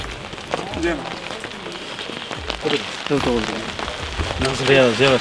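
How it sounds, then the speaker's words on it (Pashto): Light rain falls on a cold mountaintop in Buner, a soft steady patter under someone talking close by throughout. "ښکلی ښکلی نری نری باران شروع دی"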